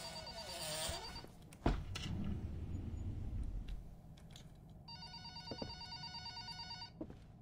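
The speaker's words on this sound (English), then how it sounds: "I'll answer the phone when I'm good and ready, okay?" An old telephone rings in the horror game The Hour of Fear, a faint, repeated electric trill against a quiet, ominous background, with a thud near the start.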